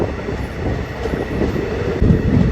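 Steady rumble of a passenger train rolling along the Srinagar to Banihal line in snowy Kashmir, heard from inside the carriage, with continuous low wheel and track noise that swells slightly toward the end.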